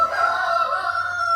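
A rooster in a backyard homestead flock crows loudly and close by, one sustained, strained call that carries to the end.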